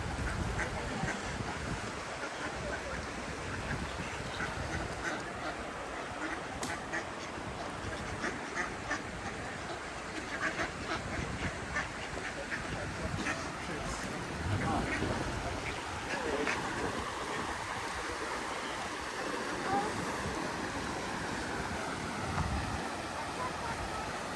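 Ducks quack intermittently amid steady outdoor noise like rushing water or wind, with occasional faint voices in the background, by a river at Bakewell in the Peak District.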